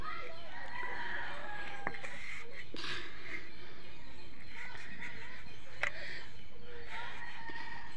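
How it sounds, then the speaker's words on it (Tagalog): Chickens and roosters in rural Philippine farmland cluck and crow at moderate distance, with scattered bird calls over a soft outdoor background and a voice talking at times. "Sarap pakinggan ng mga huni."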